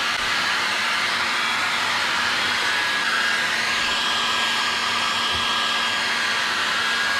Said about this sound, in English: So I'm just going to use a hairdryer.